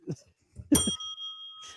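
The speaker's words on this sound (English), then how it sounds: "Ring the bell, Biddy." A bright bell is struck once amid chatter in a podcast-style conversation, its clear ringing tone sustaining and slowly fading over about a second before voices resume.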